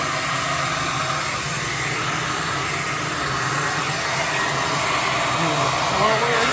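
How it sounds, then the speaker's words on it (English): A hair dryer blows steadily and loudly at close range over an acrylic or resin paint pour, a constant rushing whir that holds an even level for the whole stretch with no talk. "then I'm going to blow it with the hair dryer, and the hair dryer is noisy"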